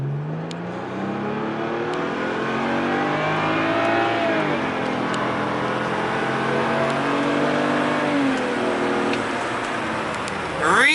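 A tuned BMW E90 running a JB4 tune on a stock map accelerates hard, its engine note climbing steadily through the gears in a loud, continuous rising drone close to the microphone.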